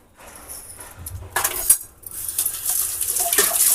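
Household dishes, pots and cans being scrubbed and washed together: close, irregular clinks and clatters of metal utensils knocking against each other, growing busier, with some splashing water.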